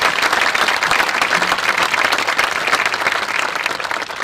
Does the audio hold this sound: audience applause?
yes